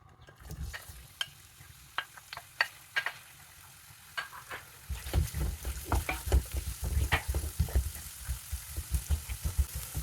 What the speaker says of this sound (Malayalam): വെളിച്ചെണ്ണ ചൂടായി കഴിയുമ്പോൾ ഇതിലേക്ക് ഒരു മീഡിയം സവാള നീളത്തിലരിഞ്ഞത്, കനം കുറച്ച് നീളത്തിലരിഞ്ഞത് ചേർത്ത് കൊടുക്കാം.